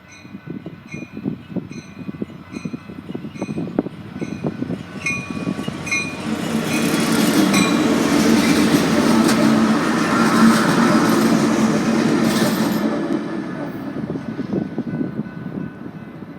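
A freight train with an AC44 leading rolls past at Rosenberg, its rumble building to a loud, close peak midway before easing off, with a steady wheel roar and some high tonal squeal over the passage.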